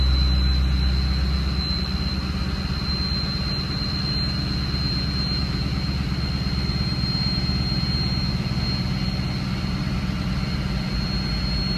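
A Ford 6.0 Powerstroke diesel engine runs steadily at about 1,000 RPM, a loud, continuous low rumble with an even hum throughout and no talking.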